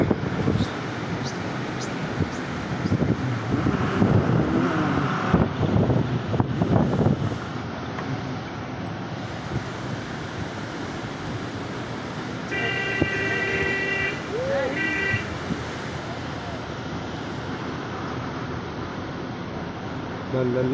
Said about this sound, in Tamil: பார்த்தீங்களா எவ்வளோ டிராஃபிக் ஜாம் ஆயிடுச்சுன்னு